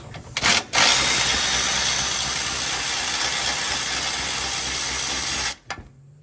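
A ratchet spins the side bolt out of a Honda Element engine mount with a loud, continuous mechanical whir lasting about five seconds, starting after a brief clatter and cutting off sharply, followed by faint tool handling.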